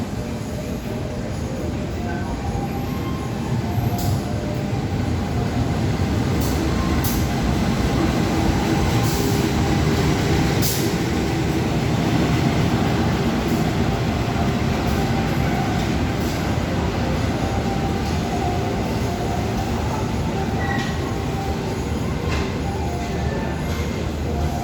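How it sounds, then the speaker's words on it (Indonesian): The Tawang Alun passenger train, hauled by a CC201 diesel locomotive, rolls into track 2 at Jember station loudly and steadily, a continuous rumble of wheels and cars with occasional faint squeals, heard up close. "kita saksikan kereta api Tawang Alun dengan CC201 Cihidung Kota masuk jalur 2 stasiun Jember"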